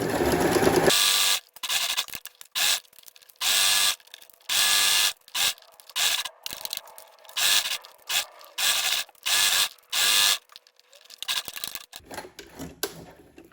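A sewing machine stitches through hessian and felt for a rice-filled needle felting mat, making a dozen or so short, close, whirring bursts separated by brief silences, with no talking.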